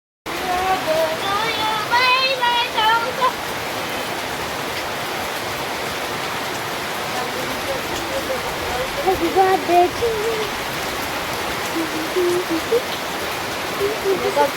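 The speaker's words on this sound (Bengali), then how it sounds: "এত জোরে বৃষ্টি হচ্ছে, আমাদের গেটের সামনে ফ্লাড হয়ে গেছে" Heavy rain pours outside, with floodwater gathered in front of a gate; a dense, steady roar of downpour fills the scene while someone talks over it at moments.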